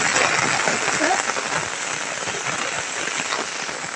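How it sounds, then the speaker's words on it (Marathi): Heavy rain pours steadily onto surfaces outdoors, a dense continuous hiss that stays loud and even throughout with no pauses. "जोरातच पाऊस झालाय."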